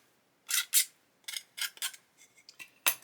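A tool scrapes along the edges of a 1/12 scale Italeri Lancia Stratos plastic model bodywork, removing swarf in a series of short, dry rasping strokes, close and fairly quiet with brief pauses between them.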